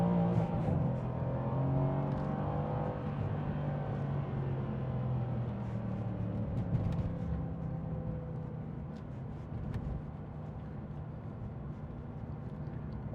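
A Mercedes-Benz C63 AMG with a BiTurbo V8 idles and revs in a deep, throaty burble, rising slightly in the first seconds before settling into a steady rumble, close and continuous with a few faint clicks.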